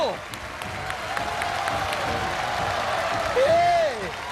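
A television studio audience applauds a new world record at a memory challenge show, with sustained clapping under a host's raised voice and music, rising briefly near the end.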